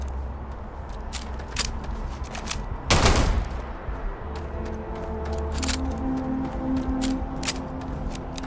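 Gunfire in the space game Starfield: a steady run of sharp, rapid shots, one heavier blast near 3 seconds standing out, over a low humming background with faint tonal beeps.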